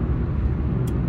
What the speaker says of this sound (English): This is the morning rush or rush hour traffic.